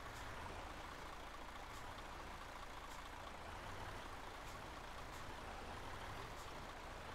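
A heavy truck engine roaring steadily at full throttle in the off-road driving game Spintires, a constant dense drone at low level with no pauses.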